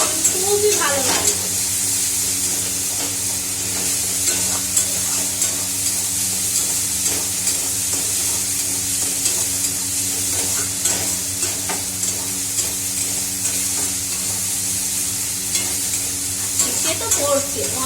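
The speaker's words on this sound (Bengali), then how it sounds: "একটু আর মশলাটা ভেজে দিই, একটু বেশ কষিয়ে দিয়ে দেবো।" Masala spice paste frying in oil in a pan, with a loud continuous sizzle and spattering hiss while it is stirred and scraped repeatedly, close up, with occasional faint voices.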